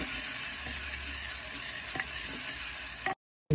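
Green chillies being sautéed with cumin in a clay pot for buttermilk kadhi, a steady close sizzle with a few stirring scrapes, cutting off abruptly near the end.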